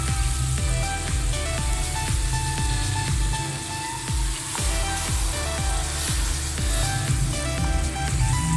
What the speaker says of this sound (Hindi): मसाले से घी अलग हो जाएगा तो मसाला हमारा बिल्कुल रेडी हो जाएगा। अब टमाटर का पेस्ट ऐड करेंगे।